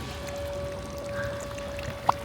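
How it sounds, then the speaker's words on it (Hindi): Water trickles and pours from an old drinking fountain among historic buildings, a faint steady flow with a thin tonal ring and a small splash near the end, set against quiet outdoor background. "ये फाउंटेन देखना,"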